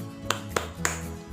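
Three sharp, evenly spaced claps ring out in a quick rhythmic 'tepuk semangat' pattern, close and crisp over a faint background hum.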